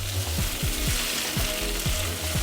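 Curry gravy with tamarind juice and curry leaves sizzles steadily in a pan while a spoon scrapes through it in a repeated, regular stirring rhythm, close and continuous.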